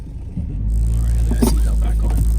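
A car on a steep mountain hill in the Japanese countryside gives a low engine rumble that swells and holds heavily, with faint voices and small knocks over it.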